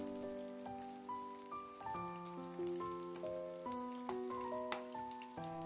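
Frozen tofu deep-frying in a wok of scalding oil gives a steady, rain-like crackle and sizzle that runs throughout, partly masked by a melodic music bed playing over it.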